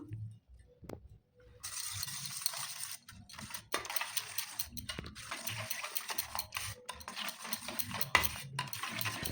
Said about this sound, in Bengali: ভালো করে ডিমের সঙ্গে মিশিয়ে নিতে হবে পুরটা